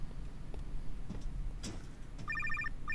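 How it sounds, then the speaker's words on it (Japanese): A telephone rings in the horror video game Night Cry, a quick electronic trilling bell that starts late and repeats in short bursts over a low, murky game ambience. "あ、電話、"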